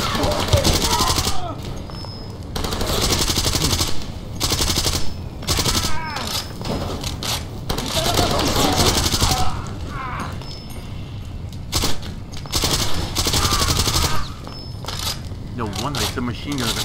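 Machine gun fire in Far Cry 2, repeated loud bursts broken by short pauses and mechanical clicks, with someone talking over parts of it.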